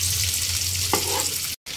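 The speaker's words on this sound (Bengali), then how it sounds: "এবার 5 মিনিটের জন্য লো ফ্লেমে ঢাকা দিয়ে ভাজা হতে।" Spiced tandoori fish sizzles on a tawa under a lid over a low gas flame, a steady close hiss with a brief soft knock, then a sudden cut to silence near the end.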